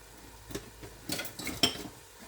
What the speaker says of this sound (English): we're going to uncover this now and give everything a mix